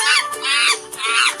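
A cartoon monkey's call in a children's animal puzzle game: two bursts of loud, shrill squawking chatter, each about half a second, with a brief dip between them and a short third burst starting at the end.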